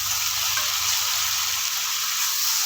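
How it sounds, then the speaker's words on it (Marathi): Dill leaves with moong dal being sautéed in a pan, a steady bright sizzle and hiss running throughout, close and even, with faint stirring underneath and no talking. "भाजी आपण आता अशी परतून घेऊया।"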